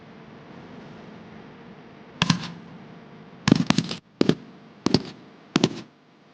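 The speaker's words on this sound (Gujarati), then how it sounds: "જો મિત્રો માટલાની અંદર કેવો ધડાકો થયો તમે જોઈ શકો છો." Firecrackers bursting inside a clay pot: five sharp, loud bangs at irregular intervals, the second a quick double crack, each followed by a brief rattling decay over a low background hiss.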